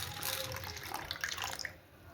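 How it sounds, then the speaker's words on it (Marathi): Water poured onto sorghum grain for soaking, a soft, faint running splash of liquid lasting a couple of seconds with nothing else heard. "चला आता याच्यात पाणी टाकून ठेवते."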